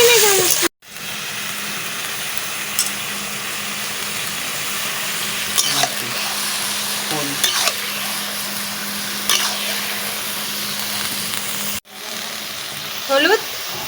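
Spice masala sautéing with duck meat for a duck curry, a steady close sizzle and hiss with scattered stirring scrapes throughout, broken by two brief silences.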